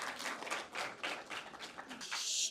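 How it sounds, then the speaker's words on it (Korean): Audience applause at a children's policy proposal contest in Dongdaemun, welcoming a speaker to the stage, a steady patter of many hands clapping at moderate distance that swells toward the end. "여러분 박수로 맞아주세요."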